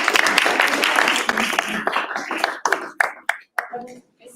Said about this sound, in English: Big applause for.